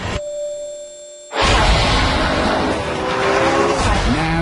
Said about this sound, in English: Now the petrol engine is top dog, and the electric motors are acting as its wingman.